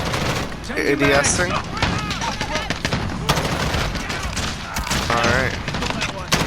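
An M16 fires in Call of Duty Modern Warfare, with rapid automatic gunfire crackling across the whole clip, alongside game effects and brief talk from a player.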